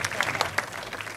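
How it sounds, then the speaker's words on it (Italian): Brief burst of audience applause at an outdoor Italian theatrical and music event, a dense patter of many clapping hands lasting just over a second at moderate volume. "a cui farei un applauso"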